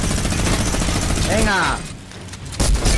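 Rapid gunfire from the video game Fortnite crackles in dense bursts that cut out partway through and resume near the end, with someone speaking briefly over the shots.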